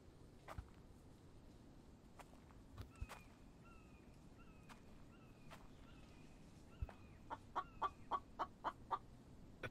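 Chickens cluck in a farming survival video game: scattered soft clucks and short calls, then a quicker run of sharp clucks near the end, over quiet footsteps and faint background.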